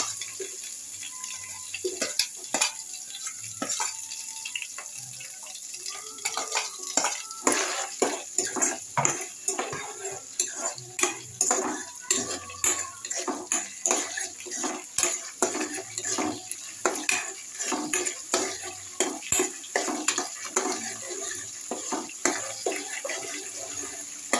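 Onions and green chillies are stirred in a frying pan, giving a long run of regular spatula strokes that scrape and clack against the metal over a faint background hiss.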